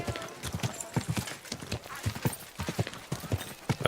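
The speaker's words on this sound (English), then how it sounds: "Don't you know how to ride a horse?" Horse hooves clip-clop in Kingdom Come Deliverance 2, a steady, close, rhythmic trotting patter of hoofbeats that runs throughout with no speech.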